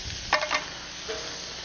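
Green chili and homemade salsa cook in a disc pan, giving a soft sizzle with a couple of quick scraping stirs near the start and a quieter hiss after.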